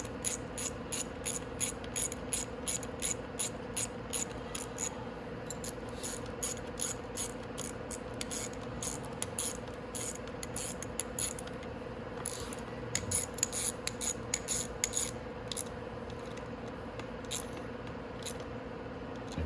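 A hand ratchet tightens the crank bolts on a Venom X22GT 250cc automatic motorcycle, giving steady runs of close, crisp clicks in short repeated strokes with no speech.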